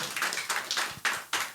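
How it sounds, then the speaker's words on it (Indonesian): Audience applause for a speaker being welcomed at a theatre-archiving discussion session, a short burst of scattered claps and taps, moderately near and fairly sparse. "Berikan tepuk tangan yang meriah."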